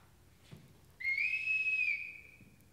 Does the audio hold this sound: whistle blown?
yes